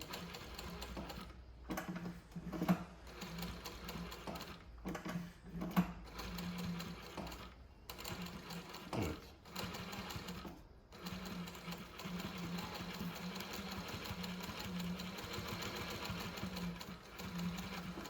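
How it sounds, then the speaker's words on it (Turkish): A VINLEX VX-1530-DD industrial sewing machine stitches zigzag in rapid bursts with short pauses, then runs steadily at speed; close and moderately quiet, with no talking. "en alta çektiğim zaman makinemiz şu anda zikzak yapacak. Şöyle başlıyorum."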